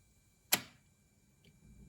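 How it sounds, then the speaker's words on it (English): An electrical contactor on a shutter control board snaps closed with a single sharp click, followed by a faint tick and low background hum in a quiet room. "the contactor closes."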